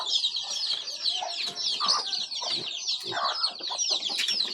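A flock of chickens clucks and chatters continuously, overlapping busy calls close by with scattered louder squawks.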